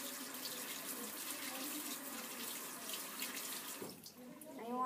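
Hands are rinsed under a running tap at a sink, a steady, close splashing rush of water that continues throughout, then shifts and briefly quiets near the end as the hands move.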